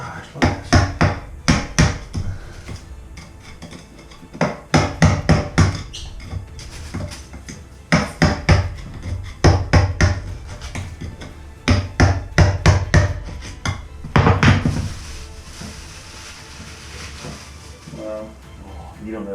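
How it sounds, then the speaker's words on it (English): Chiseling at a clogged shower drain gives sharp, repeated metallic strikes in irregular clusters, loud and close, with short gaps between bursts. "And then we'll chisel it."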